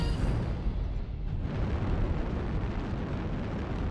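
A destroyed target explodes in Mechwarrior Online, a dense, sustained roaring blast of broadband noise with deep low rumble, loud and continuous throughout, with no talking.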